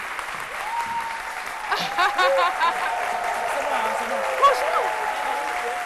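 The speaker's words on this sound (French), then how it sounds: "qu'on va raccompagner avec des applaudissements." A studio audience at a midday television show applauds in a continuous, dense round of clapping, with voices speaking over it.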